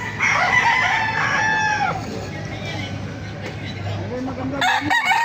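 Roosters at a chicken market in Baliuag, Bulacan, one crowing loudly and close in a long drawn-out call, with further clucks and bird sounds amid crowd murmur and people talking nearby.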